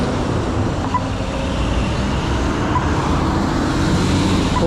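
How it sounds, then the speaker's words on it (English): Steady roadway noise from dense morning peak-hour traffic on Lower Dandenong Road, a continuous broadband rumble of cars passing close by with no gaps. "Lots of traffic this hour of the morning"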